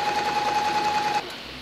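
A Pfaff Hobby 420 sewing machine stitches steadily and loudly at close range with a fast, even mechanical whir and a sustained motor whine, slowing to a softer hum as it stops.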